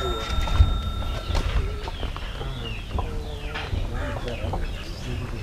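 Fighting roosters and chickens in a Jaffna yard give scattered clucks and short calls, moderately close and mixed with rustling, while a person talks intermittently nearby.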